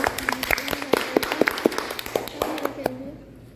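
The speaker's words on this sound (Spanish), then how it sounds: "Muy bien, un aplauso para ella." Light, scattered clapping from a small group greeting a girl on a children's TV program in Suchitoto, individual claps distinct and fading out, with a voice speaking faintly over it.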